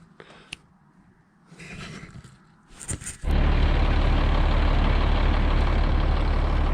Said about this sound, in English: So the truck fired up without having to jump it or anything.